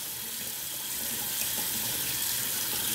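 Cold water runs steadily from a bathroom tap for a rinse after a shave, a close, even hiss and splash with no talking.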